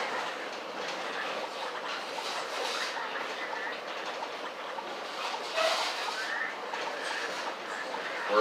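Southern 630 steam excursion train rolling across a bridge at the Tennessee Valley Railroad Museum, a steady close rumble and rattle of wheels and cars throughout, with a brief faint squeal partway through.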